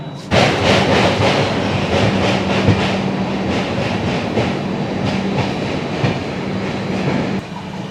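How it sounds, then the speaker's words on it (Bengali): A passenger train rolls along the tracks with a loud continuous rumble and rhythmic clickety-clack of wheels, heard from on board, on a train from Kolkata to Ayodhya. "আমাদের ট্রেন এখন ডামডাং জাংশন থেকে চলেছে দক্ষিণেশ্বরের দিকে।"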